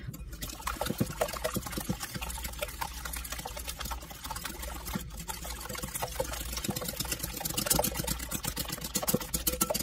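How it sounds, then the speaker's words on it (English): Heavy cream and almond milk poured into a mixing bowl for French toast batter, a steady liquid trickle and splash close by amid light kitchen clatter, with no talking. "I've got a half a cup of heavy cream and a half a cup of almond"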